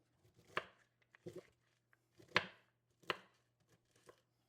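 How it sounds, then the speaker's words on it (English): A knife chops shredded cabbage strands on a cutting board for coleslaw: about five distinct, close thuds spaced irregularly, with quiet pauses between them. "I'm going to chop it the other way"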